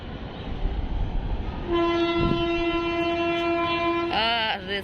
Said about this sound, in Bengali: এখন ট্রেন আসতেছে